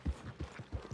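A horse being ridden in Red Dead Redemption 2 gives rhythmic clip-clop hoofbeats, several close, evenly paced thuds at a steady gait.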